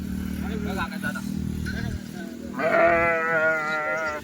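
Sheep bleat in wavering, drawn-out calls, one loud near cry closing the sequence after a few shorter ones, with people talking and an engine rumbling underneath.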